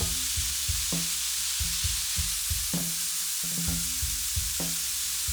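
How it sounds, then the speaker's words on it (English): Chicken satay skewers sizzle on a high-heat grill, a steady hiss with repeated soft knocks and scrapes as they are handled, close and moderately loud, with no voices. "Cook skewers on either a tabletop grill preheated to high or an outdoor charcoal grill."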